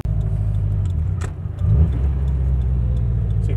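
A big-turbo Subaru STI cruising on the road gives a steady, loud low engine rumble with a slight swell in drone partway through, and no voices.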